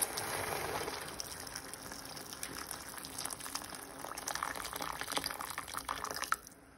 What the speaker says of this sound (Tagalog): Then, boiled water.